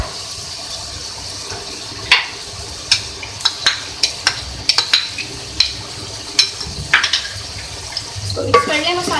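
Yogurt being stirred into soft cooked tomato masala for Delhi-style aloo keema, a spoon scraping the pan in a run of sharp clinks and knocks over a low background sizzle.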